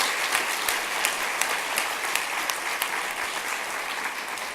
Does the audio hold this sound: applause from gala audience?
yes